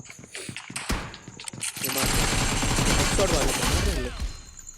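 Automatic gunfire in the mobile shooter BGMI, played in team deathmatch gun-game mode: a few scattered shots, then a loud sustained burst of rapid fire with a player talking excitedly over it.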